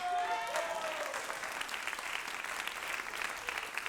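Audience applause at a live satire comedy show, a dense burst of clapping from a crowd that fades slightly, with a voice briefly over it at the start.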